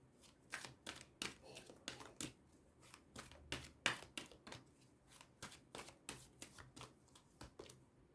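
Tarot cards are riffled and shuffled by hand at close range, a quick run of sharp flicking bursts repeating at an irregular pace, fairly quiet, with no speech.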